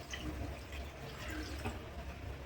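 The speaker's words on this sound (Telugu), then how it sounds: "వాటర్ 1 గ్లాస్ వాటర్ యాడ్ చేస్తాను." A glass of water is poured into a simmering fish curry in a pan, giving a quiet steady splashing flow over a low background hum, heard up close without speech.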